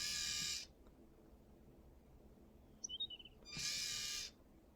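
Two bursts of bright, buzzy electronic noise bracket a short, faint chirping twitter, like a small bird call played from a tiny LEGO toy speaker.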